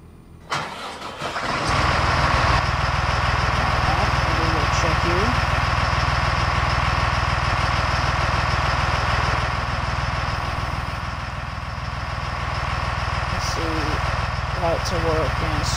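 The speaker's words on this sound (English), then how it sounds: "Start the bus up." A school bus engine cranks over and catches, then settles into a steady, loud diesel idle that runs on without a break, with faint rattles and clicks over the low rumble.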